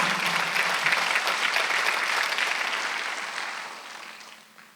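Steady applause from a church congregation during a Sunday service, loud at first and gradually fading away toward the end.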